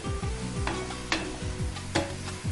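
Onions for mutton biryani fry in a pan with a steady, close sizzle, punctuated by several scraping strokes of a stirring spoon and a few louder knocks against the pan.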